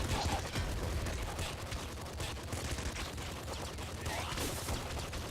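Dense, continuous gunfire from the top-down shooter game Nuclear Throne, rapid overlapping shots and impacts filling the whole stretch at a steady, loud level, with a voice faintly underneath.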